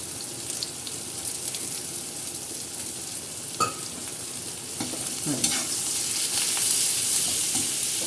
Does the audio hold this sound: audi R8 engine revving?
no